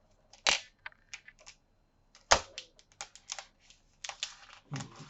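Crisp tearing and clicking of a Samsung Galaxy Z Fold 5 box's pull tab close up, with a sharp rip early and another louder pull midway, followed by scattered crinkles and taps.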